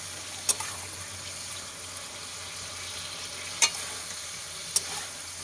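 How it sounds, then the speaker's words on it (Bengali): Chicken and tomato frying and being stirred in a pan, with a steady low sizzle throughout and three sharp scrape clicks of the spoon against the pan. "কিছুক্ষণ নেড়ে নিলাম।"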